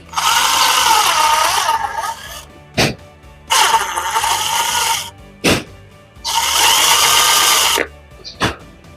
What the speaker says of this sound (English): I'm going to come back in from this side and drill the same holes.